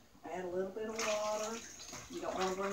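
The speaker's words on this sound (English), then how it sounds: "now I'm going to add a little bit of water" Water pours in a short, bubbling stream into hot canning jars packed with cucumbers for kosher dill pickles, a gurgling fill rising in pitch, with a brief pause and a second pour.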